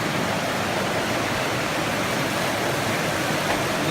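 Underground river pours out from beneath a rock ledge inside a cave, a steady, loud, unbroken rush of water that stays close and even from start to finish.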